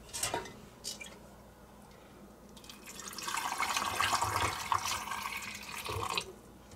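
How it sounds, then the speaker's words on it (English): A vinegar and water mixture is poured into a jar packed with eggs and spices for homemade pickled eggs, a steady splashing trickle building over several seconds with a few clinks of glass, close and alone. "once it's full, we're going to go ahead and pour the liquid on top of it"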